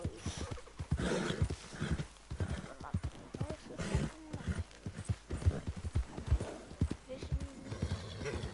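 Horse hooves clip-clopping with occasional whinnies at the stables in Red Dead Redemption 2, in a steady rhythmic stream of close hoof strikes heard under a person talking.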